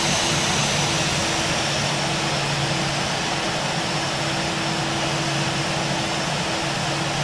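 Aerosoft A321 Finnair jet engines in a flight simulator game hum steadily at taxi, a constant near drone with two sustained tonal lines running unbroken throughout, no voices over it.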